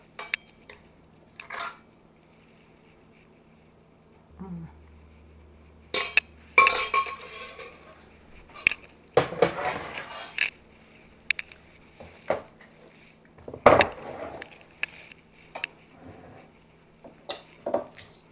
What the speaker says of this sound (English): I'm going to add our noodles.